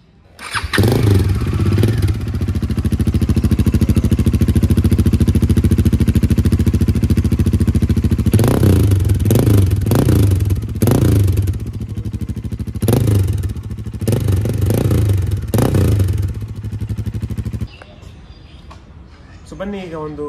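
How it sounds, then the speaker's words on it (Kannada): A modified adventure-style Bajaj Dominar 400 single fires up and idles loudly close to the exhaust, with several sharp throttle blips partway through before the engine note drops away near the end. "ಸೊ ಈಗ ಗಾಡಿ ಸ್ಟಾರ್ಟ್ ಮಾಡೋಣ. ಸೈಲೆನ್ಸರ್ ಸೌಂಡ್ ಹೇಗಿದೆ ಅಂತ ಒಂದು ನಿಮಗೆ ಕ್ಲೋಸಿಂದ ತೋರಿಸ್ತೀನಿ."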